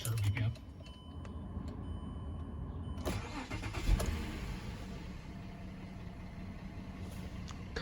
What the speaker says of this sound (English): And put the key in the ignition to start.